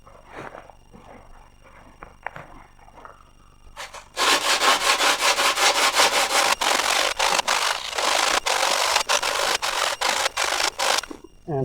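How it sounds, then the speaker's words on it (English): Carbon fiber telescope tube being dry sanded by hand, a loud, close, rasping scrub in fast back-and-forth strokes after a few quiet taps and handling noises. "since we are dry sanding"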